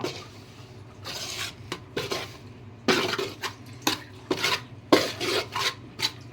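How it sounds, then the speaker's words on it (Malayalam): Dry rice grains scraped and rattled around a pan while roasting, with repeated stirring strokes, an irregular gritty rasping that comes and goes. "ഇതാ വറുത്തെടുക്കുവാണ് നന്നായിട്ട് അങ്ങ് വറുത്തെടുക്കുക"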